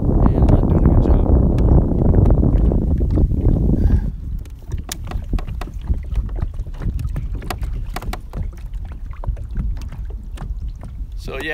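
Small fishing boat moving on water during fall bass fishing, with steady wind and water rush giving way to choppy splashes and hull knocks, loud and close throughout.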